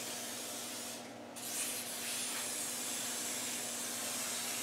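Crown rust protection is sprayed from a can underneath a Ghana 110, a continuous soft hiss heard close but quiet, with one brief pause in the spray and no talking.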